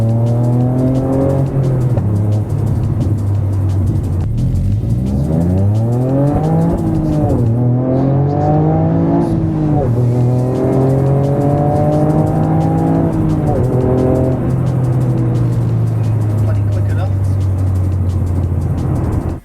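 A tuned Toyota GR Yaris engine revving and accelerating, loud and close, with rising pitch sweeps through the gears and a steady drone, while a person talks over it.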